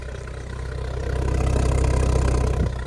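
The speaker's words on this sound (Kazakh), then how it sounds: "Мотор дұрыс жұмыс істеп тұрған жоқ" A car engine at a used car market in Georgia runs poorly while it idles. It gives a steady low rumble close by that swells slightly, with no talk over it.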